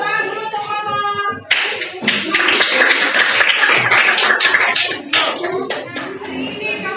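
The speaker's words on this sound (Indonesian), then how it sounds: "tepuk tangan dulu untuk kelompok" A class of students claps loudly together for a student group, a dense burst of hand claps lasting several seconds after a short spoken prompt, close and bright with some voices mixed in.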